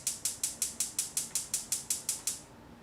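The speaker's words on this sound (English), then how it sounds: "let's turn on our pan" A stove burner being switched on under a pan gives a quick run of about a dozen sharp, evenly spaced ticks that then stop, close and fairly loud.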